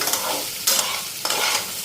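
Loud sizzling of potatoes frying in a pan, broken by a few sharp scraping stirs of a utensil.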